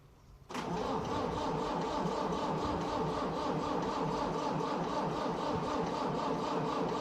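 A Massey Ferguson 698 diesel tractor engine, low on fuel, is silent at first and then catches suddenly, settling into a loud, even running rumble close by for the remaining seconds.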